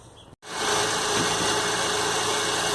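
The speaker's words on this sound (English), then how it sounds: "So I've started the engine" An Acura/Honda car engine idles steadily after starting, a continuous low hum with a faint mechanical knock running through it, close and fairly loud with no speech.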